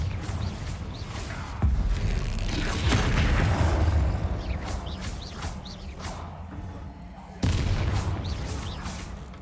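Spell blasts from the Confringo fire spell in Hogwarts Legacy: loud booming explosions that come one after another, layered with crackling debris and game ambience, with a fresh impact near the end.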